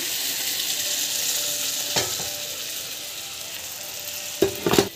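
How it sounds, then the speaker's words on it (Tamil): Spices and chili powder are sautéed in a pan with a continuous close sizzle, broken by a spatula scrape near the two-second mark and a quick cluster of stirring knocks toward the end. "கொஞ்ச நேரம் வந்து இப்படி வதங்கிட்டோம்."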